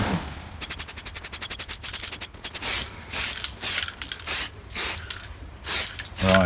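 Lacquer is sprayed onto a model tank in short hissing bursts, a quick run of rapid pulses giving way to longer separate sprays, close and fairly loud with no talking.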